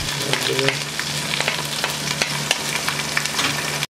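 Onion, ginger and garlic fry in a pan with a loud, crackling sizzle, sharp pops and spatters scattered across a steady hiss, with occasional stirring scrapes.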